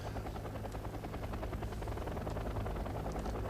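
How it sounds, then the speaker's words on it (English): Mi-24 attack helicopters fly in the video game Wargame: Airland Battle, giving a steady rapid rotor chop and engine drone that holds continuous and moderately loud throughout, with no talk. "here comes the stars of this battle, my Mi-24s."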